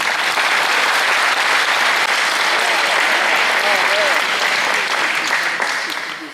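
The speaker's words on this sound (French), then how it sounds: "Vous pouvez applaudir." Sustained audience applause at a Breton folk costume presentation celebrating a traditional 1930s–1940s embroidered wedding outfit, steady and dense throughout before tapering slightly at the end.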